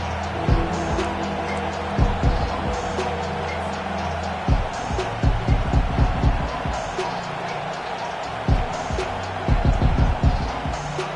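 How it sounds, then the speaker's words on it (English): A home crowd in a packed college football stadium at an Oklahoma versus Tennessee game roars steadily, with swelling cheers and sharp thumping bursts under ongoing play-by-play commentary. "Listen to this crowd just shaking the girders of this place, trying to help their defense."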